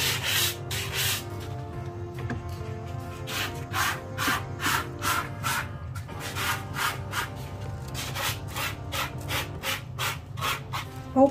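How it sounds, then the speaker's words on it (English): Fine sandpaper over 300 grit is rubbed by hand across a vintage wooden sewing box in quick rhythmic strokes, in bursts of several scrapes with short pauses between, heard up close. "I come and I sand."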